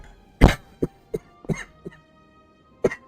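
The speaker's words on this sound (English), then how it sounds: "I apologize for coughing." A person coughs in a close, dry burst, followed by a few smaller coughs and throat-clearing sounds spaced irregularly over a few seconds, with no talking.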